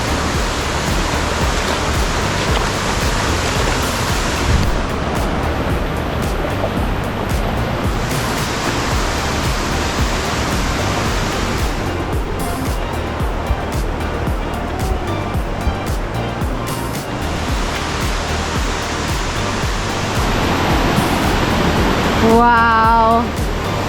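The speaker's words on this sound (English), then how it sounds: "Wow, this is Fiji Waterfall" Fiji Waterfall in the Sekumpul area of North Bali roars as a loud, continuous wash of falling water, close and unbroken for the whole stretch.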